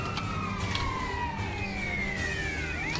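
A police siren wails steadily in GTA San Andreas, its rising and falling tones layered as vehicles chase through the streets under constant traffic noise.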